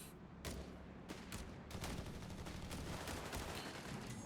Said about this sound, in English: We're going to see it barrage this victory point here.